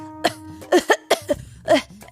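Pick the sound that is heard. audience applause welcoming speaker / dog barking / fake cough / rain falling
fake cough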